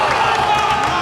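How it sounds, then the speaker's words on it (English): A cricket crowd roars and cheers after a wicket falls in a Sheffield versus Bradford final, a dense, loud wash of voices and clapping. "Darnell Dynamites had their first wicket, and the crowd has come alive"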